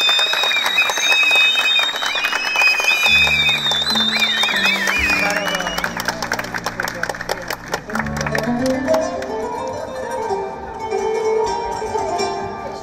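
Audience applause and crowd noise for a singer at a teachers' singing contest final in Van, clapping mixed with music and a voice over it, fairly loud and continuous.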